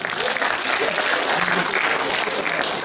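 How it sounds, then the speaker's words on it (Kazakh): Stand-up comedy audience in a hall breaking into applause, a dense steady wash of clapping from many hands lasting several seconds. "Азар шапалақты да ұмытпаған."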